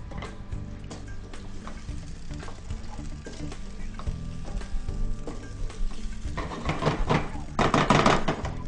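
Caponata cooking in a pan as pepper and sugar are stirred in, with steady sizzling under irregular scraping and tapping strokes that grow louder and busier toward the end.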